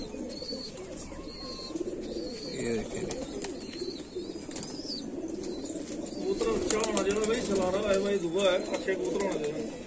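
A loft of fancy pigeons, including Salara and Teddy birds, coo softly with scattered wing flaps and rustling nearby, while people talk over them throughout.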